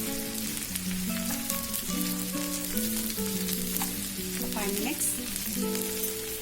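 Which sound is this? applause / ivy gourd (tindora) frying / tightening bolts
ivy gourd (tindora) frying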